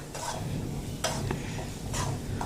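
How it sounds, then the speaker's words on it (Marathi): Lavangi chili thecha frying in plenty of oil on medium heat, stirred in a pan: constant close sizzle with several sharp scraping stirs of a spoon against the pan, no voices. "असा छान खरपूस हा ठेचा परतून घ्यायचा आहे आपल्याला"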